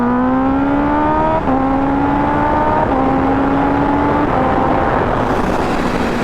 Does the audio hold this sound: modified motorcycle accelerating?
yes